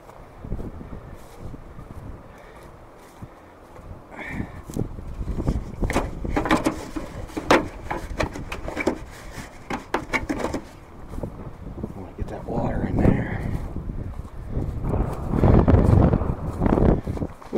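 Wind gusts buffet the microphone outdoors on a hillside farm near Shenandoah Mountain in January, a rough, rumbling roar that swells and fades irregularly and grows stronger toward the end.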